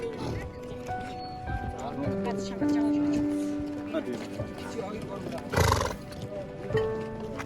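A horse neighing during a summer trip in Arkhangai, Mongolia; a whinny rises amid outdoor ambience, with people talking nearby.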